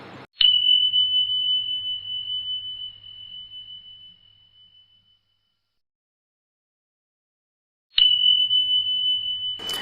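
Two bright sustained bell-like rings in a gym, each struck sharply and left to fade, separated by a few seconds of silence, loud and close with no talking.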